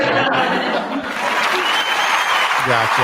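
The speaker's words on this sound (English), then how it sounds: "No, insert applause" Studio audience applause on a talk show, a steady dense roar of clapping held across the whole stretch, with voices and laughter mixed in underneath.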